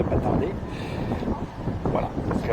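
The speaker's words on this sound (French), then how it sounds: "évidemment il y a du vent à mort" Strong wind buffeting the microphone at a French train station, a continuous low rumbling roar with gusty swells throughout, loud and close.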